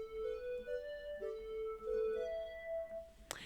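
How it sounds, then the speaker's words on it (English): A GMS Lead 2 synth plays a short stepped melody of sustained, rising notes in an R&B beat, quiet and alone, ending with a sharp percussive hit. "it's this GMS, this lead 2 that sounds like this"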